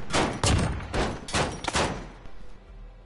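Rapid bursts of gunfire from a weapon in a PS4 shooter game, five or six sharp shots in quick succession, loud and close, then trailing into a quieter game background.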